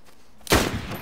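A single loud gunshot cracks in DayZ Standalone after a quiet moment, followed by a short, rumbling echo tail.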